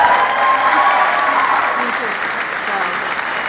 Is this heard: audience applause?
yes